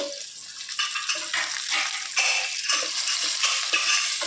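Brinjals, added to softened tomatoes, sizzle and crackle in hot oil in a pan, close up, with rhythmic scraping bursts of stirring over the steady frying hiss.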